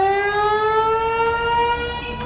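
Air raid sirens wail across a city in Pakistan, a single sustained rising tone with strong harmonics, loud and unbroken, slightly fading toward the end.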